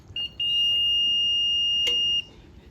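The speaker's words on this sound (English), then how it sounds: "And you'll hear that beep again." A Kwikset SmartCode 888 electronic keypad door lock, being used to erase a code, gives a short chirp, then one long steady high-pitched beep lasting almost two seconds, with a faint click partway through.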